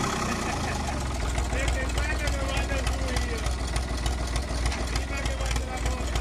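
An old Fiat 450 tractor engine idles steadily, a continuous low mechanical rumble that stays close and even throughout, with people talking over it.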